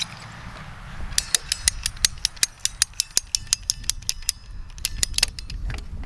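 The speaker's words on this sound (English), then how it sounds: "cut the mainline like that" Drip irrigation mainline tubing is cut with a rapid run of about twenty sharp, evenly paced ratcheting clicks over a low background rumble, close by.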